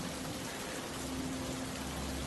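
Steady, gentle rainfall hisses evenly throughout, a soft continuous wash with a faint low hum beneath, no voices.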